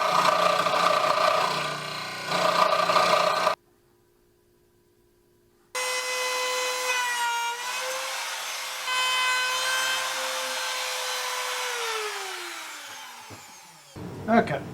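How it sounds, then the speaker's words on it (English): A saw cuts through wood for DIY camper cabinets, close and continuous, pausing briefly before resuming with a steady whining drone that sags and winds down near the end. "I should cut this down so that I'm not trying to cut through so much wood."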